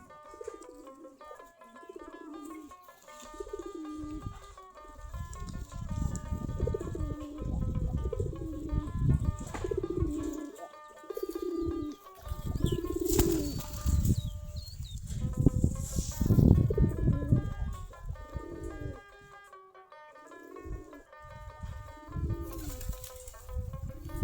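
Pigeons coo repeatedly in close, rhythmic bursts, with occasional wing flaps and rustling among the birds, moderately loud and continuous over half a minute.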